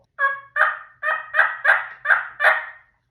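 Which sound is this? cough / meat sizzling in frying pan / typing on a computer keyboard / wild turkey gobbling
wild turkey gobbling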